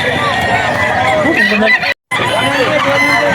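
A young rooster (stag) crows with a thin, uneven call amid clucking fowl and ducks at a poultry auction market, while people talk nearby; a brief dropout interrupts the sound midway.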